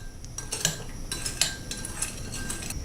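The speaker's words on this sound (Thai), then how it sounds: "หลังจากนั้นก็คนละลายให้เข้ากัน" A metal spoon stirring sauce dissolved in warm water for a black pepper sea bass stir-fry, with light repeated clinks and scrapes against the bowl in an uneven rhythm, close and clear.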